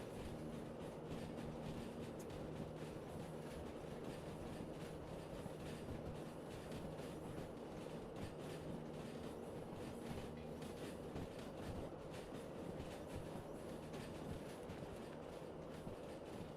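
A train running on rails in the Derail Valley video game, with a continuous low rumbling roll and faint rhythmic clatter, steady and even throughout at moderate level, no talking.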